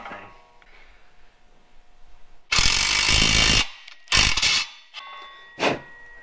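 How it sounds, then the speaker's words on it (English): A pipe tap cuts fresh threads into a crusty hole fouled with old thread-locker, heard as several loud, harsh grinding bursts of differing length close up, split by short silences. "I think we're gonna want to run a pipe tap into that thing."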